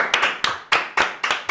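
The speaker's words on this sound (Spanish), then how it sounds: "vamos a recibirlo con un fuerte aplauso" A handful of sharp, separate hand claps at an uneven rhythm, close and fairly loud, welcoming a guest on a talk show, with no voices during them.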